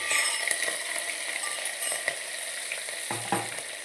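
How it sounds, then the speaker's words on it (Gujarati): Ginger-chili paste sizzling and frying in a hot pan while being stirred, a steady bright hiss with occasional scraping clicks of the spoon, close and alone with no talking. "હવે આપણે આદુ મરચાંની પેસ્ટ નાખી દઈશું મિક્સ કરી લઈએ"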